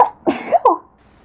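A person sneezes twice in quick succession, close and fairly loud, a short sharp burst followed by a second explosive sneeze during a sneezing fit.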